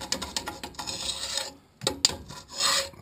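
A metal tool scrapes clinkers from the burn pot of a Harman PB105 pellet boiler in a rapid series of close, rasping strokes, pausing briefly before a few more scrapes.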